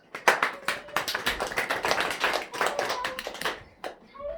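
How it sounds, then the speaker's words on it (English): A small group claps for a volunteer named Blake, a short burst of irregular hand claps close by that tapers off within a few seconds, with no talking over it. "Round of applause for Blake."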